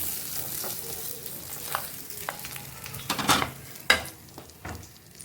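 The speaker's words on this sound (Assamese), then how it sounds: "মাছৰ মূৰটো গৈছে আৰু একদম অকণমান ভালকৈ এনেকৈ ভাজি লৈছোঁ মচমচীয়াকৈ।" Fish head frying until crisp in a pan of hot oil for an Assamese khaar dish, a steady close sizzle with occasional stirring scrapes and a few sharper clinks of utensil against the pan.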